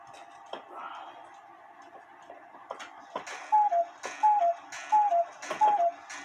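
An 1880 antique Albert Fleig hunters cuckoo clock under repair ticks with faint, regular clicks, alongside quiet handling noises and louder knocks of workshop activity near the end.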